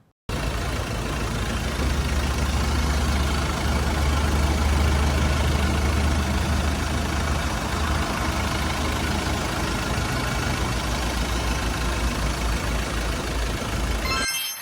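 A 2021 Ford Ranger 2.2-litre diesel single cab idles steadily nearby, a continuous low engine rumble with no talk throughout.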